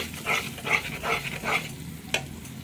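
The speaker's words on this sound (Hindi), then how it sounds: "अच्छी तरह से मिक्स करना है वेजिटेबल्स को एग्स के साथ।" Vegetables being stirred with eggs in a pan for a bhujia, four or five rhythmic scraping strokes of a spatula over a soft sizzle, close and fairly loud, ending with a sharp tap.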